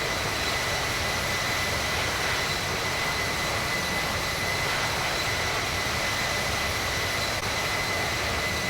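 Airliner engines drone in the Infinite Flight simulator during a cruise from Reno to Seattle, a steady, dense jet roar with a faint high whine and no talking throughout.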